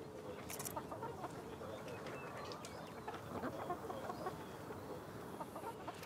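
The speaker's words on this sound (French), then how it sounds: "Il est venu immortaliser des poules landaises pour un célèbre magazine de cuisine." Landes hens cluck softly and intermittently in a farmyard, faint and somewhat distant, with occasional other bird calls around them.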